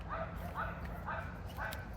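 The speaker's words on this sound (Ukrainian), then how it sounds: "Там лаять дуже собаки." Dogs bark nearby in rapid repeated yips, four bursts in two seconds, over a steady low background hum.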